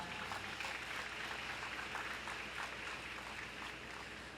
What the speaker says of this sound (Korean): 법의 문제점과 개선 방향을 명쾌히 정리해 주신 선생님께 다시 한번 큰 박수 부탁드립니다